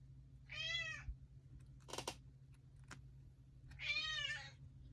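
A cat meows twice, close and clear, with a few soft clicks and taps between the calls, in a quiet room where Christmas cards are being made from paper scraps.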